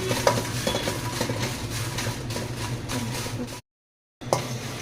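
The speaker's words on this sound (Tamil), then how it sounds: "இப்போ காஞ்ச மிளகா போட்டுக்கலாம். இதை ஒரு சும்மா லைட்டா ஒரு 5 நிமிஷம் வறுத்துக்கலாம்." Dry red chillies roasting in a pan with a steady scratchy stirring and low sizzle, utensil scraping throughout, then a brief full silence before the scraping resumes.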